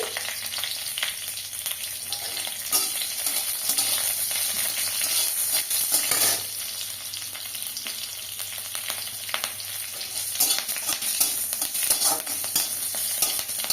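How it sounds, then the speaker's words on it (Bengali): Radhuni seeds tempering in hot oil for a Bengali yardlong bean and potato curry, with slit green chillies, give a steady, close, bright sizzle and crackle that holds evenly throughout with no talking. "তেলে একটু রাঁধুনি দিয়ে দেবো ফোড়নে।"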